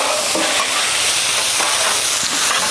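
Apples and onions worked into sauerkraut on a hot Blackstone griddle: a loud, dense, continuous sizzle close by, with faint scraping of the spatula as the mix is turned, no voices.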